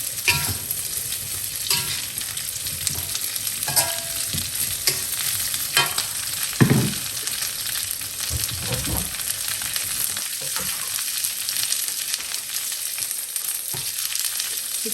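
Long beans go into a pan with meatballs and glass noodles and are stir-fried. A steady sizzle runs throughout, broken by repeated scrapes and clacks of a utensil stirring against the pan, close and fairly loud.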